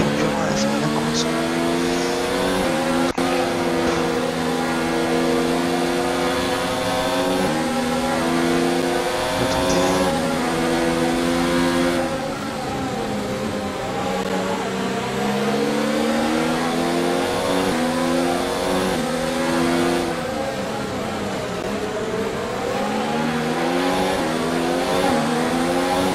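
Formula 1 race car engine in the F1 2019 video game during a career-mode race in Spain, screaming continuously at high revs with rising and falling pitch as it accelerates and shifts, loud and unbroken throughout, with faint tire noise.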